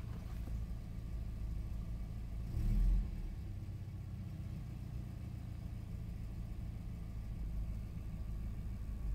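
A car engine idling steadily while warming up from cold, a low continuous rumble with a brief louder swell partway through, otherwise even and unbroken.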